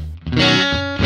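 Electric guitar played through an Axe FX III Fender Bassman amp model with drive on, a short strummed chord and a second hit, thick and moderately distorted, loud and close with no talk.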